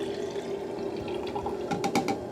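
Buffer solution poured from a bottle back into its container, a soft continuous trickle with a few brief splashes near the end, heard alone without talk.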